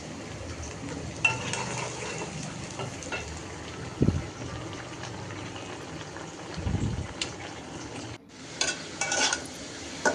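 Garlic frying in oil in a pan for tempering greens, a soft continuous sizzle with scattered scrapes and knocks of a spoon against the pan, a brief dropout partway, then renewed stirring clatter.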